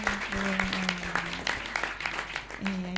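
An audience at a cultural gathering claps in a sustained burst of applause, fairly dense and steady, with a low hum and faint tones running underneath.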